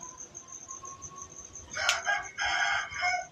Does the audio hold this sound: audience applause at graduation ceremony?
no